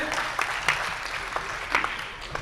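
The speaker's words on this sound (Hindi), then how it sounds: "एक बार जोरदार तालियों से उनका स्वागत करें" Applause from an audience at a Hindi-speaking gathering welcoming a woman, with scattered sharp claps over a steady wash of crowd noise, moderately loud and fairly close.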